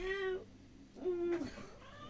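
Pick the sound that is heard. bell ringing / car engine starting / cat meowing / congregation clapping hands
cat meowing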